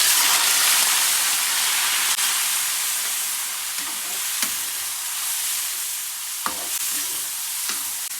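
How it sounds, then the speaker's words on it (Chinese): Chopped chili sizzles loudly in plenty of hot oil in a wok, a constant frying hiss broken by occasional scrapes and clicks of a spatula stirring. "把剁椒炒出香味，"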